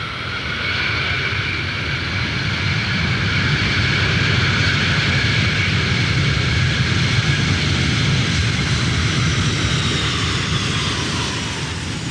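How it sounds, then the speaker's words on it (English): A wide-bodied jet airliner roars past near Nice Airport, a loud, sustained engine roar with a whining tone that holds steady for several seconds. "No fewer than a dozen wide-bodied jets bring thousands of spectators to nearby Nice Airport to see the race"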